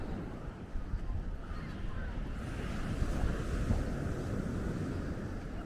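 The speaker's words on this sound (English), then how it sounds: "it'd be better for filming if the wind was more calm" Steady wind blowing along the Norfolk coast path near Scratby, buffeting the microphone with a constant rough roar and a distant surf-like wash, continuous and fairly loud throughout.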